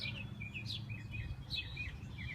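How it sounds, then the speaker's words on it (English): Lots of birds chirp and tweet outdoors in short, high, bright bursts that repeat in clusters over a low, steady background rumble, fairly distant and moderately quiet. "Man, there are a lot of fucking birds."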